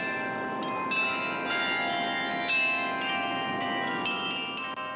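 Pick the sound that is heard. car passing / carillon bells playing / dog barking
carillon bells playing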